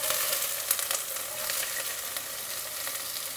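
Onion and vegetables, with ginger already in the pan, sauté for fried rice with shrimp, giving a steady, close, bright sizzle with faint stirring clicks throughout and no talking.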